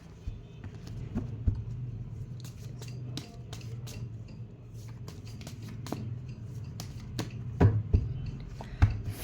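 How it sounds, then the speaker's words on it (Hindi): Tarot cards are shuffled by hand in quick, soft riffling and tapping strokes, close and fairly quiet, with a few sharper snaps near the end. "Let's shuffle the cards."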